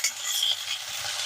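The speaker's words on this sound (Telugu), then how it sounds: "తాలింపు చక్కగా వేగిందండి." Onions, chilli and peanuts sizzle in hot oil for a tempering, giving a bright, steady frying hiss close up, with a brief stirring scrape and no talk.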